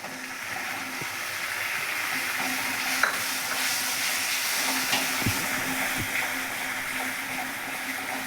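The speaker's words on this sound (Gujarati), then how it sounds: "મસાલા બે ત્રણ સેકન્ડ માટે શેકાઈ જાય એટલે આપણે હવે ટામેટું નાખી દઈશું" Tomato tipped into coriander-cumin spices frying in oil in a pressure cooker, giving a steady broad sizzle throughout with a few soft stirring knocks and scrapes, close and fairly loud, no voices.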